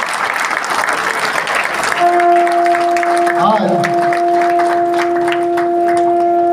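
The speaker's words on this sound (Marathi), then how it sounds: "सर्वांनी जोरात टाळ्या वाजवायच्या." Loud crowd applause at a Sai Baba devotional procession gathering fills the scene continuously, with a steady tonal hum joining partway through.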